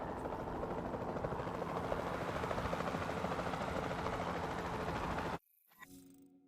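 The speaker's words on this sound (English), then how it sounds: "Then the sensible thing is to take a capture team helicopter." Capture team helicopter in the video game Jurassic World Evolution 2, a loud steady rotor thrum and engine drone that cuts off abruptly near the end, leaving a quieter mechanical whir.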